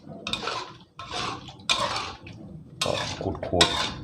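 Bursts of scraping and clattering against a metal wok, a spatula stir-frying curry paste and chicken feet in a few rhythmic passes, close and fairly loud.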